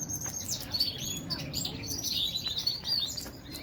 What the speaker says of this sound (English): Pretty little canary, grosbeak or some sort of seed eater there